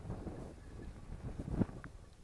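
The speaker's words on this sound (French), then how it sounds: "il y a trop de vent" Wind gusts and rumbles against the microphone in low, uneven buffeting at a February campsite in the Jabron valley, with a soft swelling roar and no talking.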